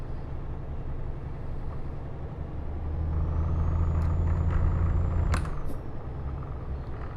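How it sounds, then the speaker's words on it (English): Heavy truck air and exhaust brakes in Euro Truck Simulator 2, a Volvo FH16 2013 rig: a deep engine drone swells and holds under braking for a couple of seconds, then a sharp hiss of air release cuts in and the rumble drops away. "the air brakes really, exhaust brakes really work good on this"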